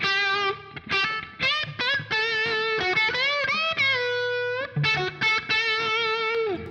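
Distorted electric guitar from a Les Paul through a Soldano SLO 30 amp with reverb, playing a fast melodic 80s-style lead line with sustained bent notes and short pauses, loud and close.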